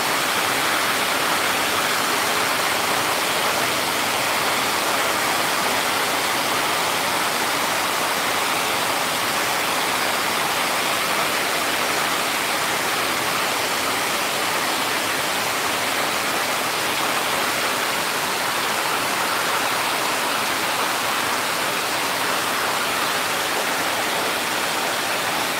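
Steady, dense rain pouring on a rainy afternoon in Mindanao, a continuous even hiss with no breaks, moderately loud and heard alone without voices.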